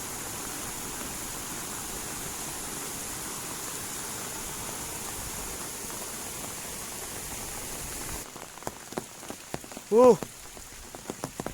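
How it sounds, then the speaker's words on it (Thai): Steady, dense rain hisses continuously, then eases into lighter patter with scattered drops and a few brief knocks and a short tonal sound near the end. "ฝนตก"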